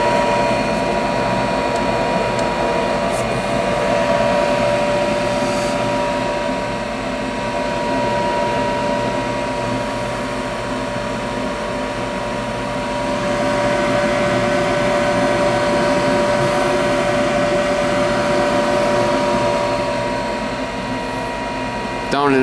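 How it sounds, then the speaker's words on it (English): A gas furnace's motor runs continuously in a damp basement with a steady, loud whirring hum and fixed tonal whine that rises and falls slightly in level. "This motor's got to run to pull in the vacuum switches."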